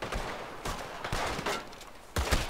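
Gunfire from the video game Red Dead Redemption: several sharp, loud shots crack out in irregular bursts, clustered closely together with short gaps between them.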